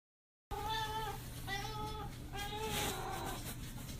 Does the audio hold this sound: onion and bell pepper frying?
no